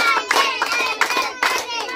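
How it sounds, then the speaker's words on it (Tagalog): A group claps for a 13th birthday in repeated bursts of hand claps, fairly close and lively, mixed with children's voices and chatter throughout. "palakpak tayo"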